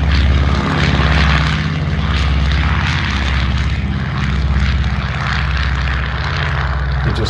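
An Avro Anson's propeller engines at the Classic Fighters Omaka airshow: a loud, steady, throbbing piston-engine drone that fills the whole stretch, close and unbroken, with no talk.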